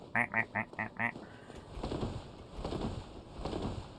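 Five quick, loud duck quacks in a steady rhythm from a Donald Duck mode character in the video game Dark Souls, followed by softer game noise and rustling.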